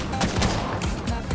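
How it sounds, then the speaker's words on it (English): Gunfire from a Fortnite match during a trio game, a dense run of rapid shots coming from more than one direction, loud and continuous across the moment, with a faint voice underneath. "They're shooting from two different ways."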